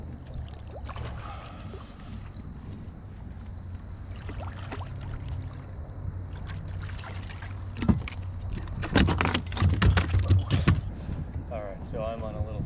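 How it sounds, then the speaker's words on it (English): A paddle strokes water as a small boat or kayak pulls off a shallow sandbar on grass flats, splashes building toward the end, close, over wind and faint background noise. "I gotta paddle away so I don't get stuck"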